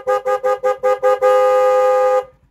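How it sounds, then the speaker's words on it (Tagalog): A Shooter FI 115 motorcycle horn sounds six short, evenly spaced beeps, then holds one long, steady honk for about a second before cutting off, loud and close with no one talking. "Then busina tayo."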